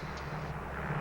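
Steady airliner engine drone heard from inside the cabin in flight, a dense low rumble and hiss holding even throughout a brief stretch with no talk.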